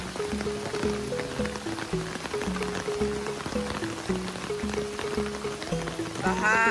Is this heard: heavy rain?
yes